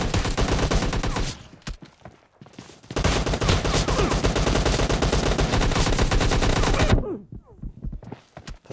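Gunfire from a team deathmatch in PUBG Mobile Lite: loud, close bursts of rapid automatic shots that run for a few seconds at a time, with short pauses between bursts.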